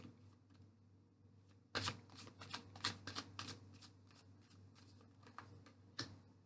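Tarot cards shuffled by hand, a burst of crisp riffling flicks starting partway in and continuing in quick irregular bursts, fairly close and moderately loud over a low steady hum, with no talking.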